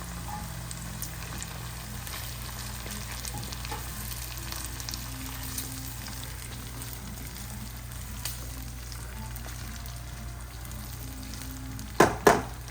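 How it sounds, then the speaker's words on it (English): Frozen peas fry in a pan with pancetta for pasta, a steady low crackling sizzle throughout, ending with two sharp clatters of utensil contact. "Now we're going to add our peas. This is a 12-ounce bag of frozen peas."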